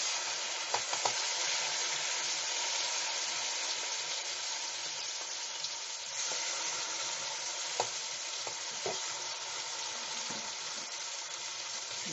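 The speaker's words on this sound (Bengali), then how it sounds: "ছোলার ডাল বাটা দিয়ে দিচ্ছি।" Ground chana dal paste frying in ghee for a halwa sweet, a steady dense sizzle that hisses continuously throughout, with a few faint utensil clicks, close and alone without voices.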